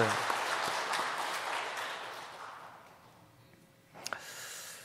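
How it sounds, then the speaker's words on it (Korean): A church congregation at a year-end Sunday worship service breaks into broad, even applause that gradually fades away. A voice speaks after the clapping stops. "우리 하나님께 영광의 박수 한번 올려드립시다"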